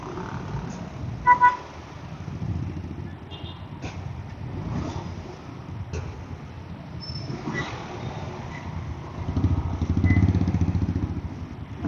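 Busy street traffic in Divisoria's crowded market area, with cars parked along the roadside: a steady engine rumble, with a sharp double horn toot early on and scattered shorter toots and passing vehicles throughout.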